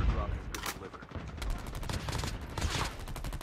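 Rapid automatic gunfire from Call of Duty Mobile, dense bursts of loud close shots running almost continuously with brief gaps, mixed with game effects.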